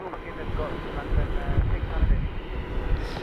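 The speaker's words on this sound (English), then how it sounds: "The Jetstar's just started moving to the gate." Airliner engines rumble low and steady from a distance as a Jetstar jet taxis to the gate at Sydney Airport, mixed with wind buffeting the microphone.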